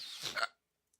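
A single human hiccup, a short sharp vocal catch with a breathy tail, close and fairly quiet, then silence.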